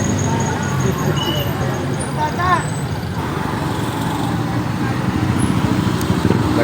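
Road traffic at a street corner in Carmen, slowed by a passing funeral procession: a steady wash of car, bus and truck noise close by, with scattered distant voices and a brief high squeal partway through.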